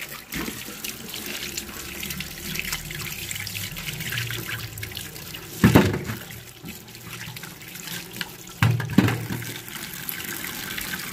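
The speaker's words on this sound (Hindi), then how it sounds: "तो सबसे पहले मैंने शकरगंदी ले ली है इसको धो लेते हैं अच्छे तरीके से" Tap water runs steadily into a sink as sweet potatoes are washed by hand, a continuous splashing stream broken by two louder bursts of sloshing and rubbing.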